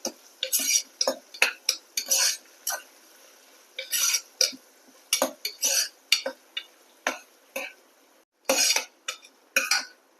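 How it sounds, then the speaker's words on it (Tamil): A spoon scrapes and stirs through sautéed onions with a sprig of curry leaves in a pan, making a series of short, sharp clinks and rustles broken by brief pauses, close and fairly loud. "சேர்த்து அதையும் நல்லா மிக்ஸ் பண்ணி விடுங்க"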